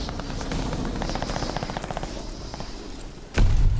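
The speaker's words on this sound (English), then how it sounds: "Recon plane scanning the area." A recon plane drones overhead in the Call of Duty Vanguard video game, a steady rotor-like hum amid scattered gunfire, ending with a sudden loud blast.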